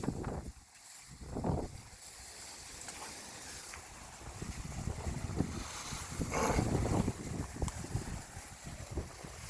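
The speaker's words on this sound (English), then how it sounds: "I don't know how much of this wind I'm going to put up with." Strong wind blowing over a lake with whitecaps, a loud continuous roar with gusty rumbling buffeting against the microphone, rising and falling throughout without talking.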